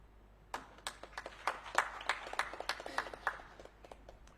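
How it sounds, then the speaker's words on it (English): A conference audience at the closing of the 13th African Potato Association Conference gives scattered, fairly faint applause, with distinct individual claps that build briefly and then thin out. "we need to give COPIA a round of applause"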